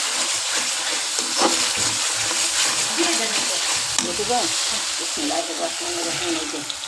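Rohu fish roe frying in a pan gives a loud, steady sizzle throughout, with stirring scrapes and a voice faintly murmuring beneath.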